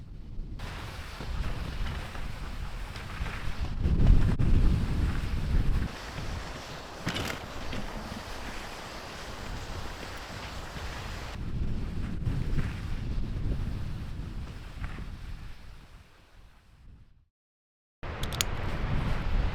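Strong winter wind gusts around a mountain cabin on a dog-sledding trek, rumbling and buffeting the microphone in uneven surges, with a brief drop to near silence shortly before the end.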